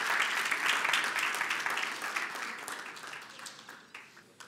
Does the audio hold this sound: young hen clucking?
no